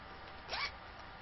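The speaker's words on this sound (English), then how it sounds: "And again with the zipper" A bag's rear zipper is pulled once, a short bright rasp lasting about a quarter second, close and clear against a quiet room.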